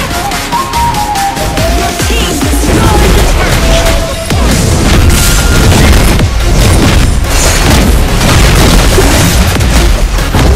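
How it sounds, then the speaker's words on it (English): A turret is destroyed in the Mobile Legends video game, and a loud, dense explosion with booming bursts rolls on without a break through busy game effects. "Your team destroyed the turret!"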